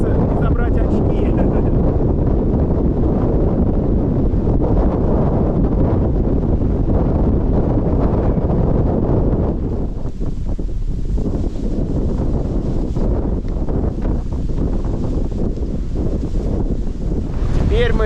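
Strong storm wind buffets a mountain summit on Semiglavaya, a loud, steady roar of gusts battering the microphone for the whole stretch and easing a little partway through.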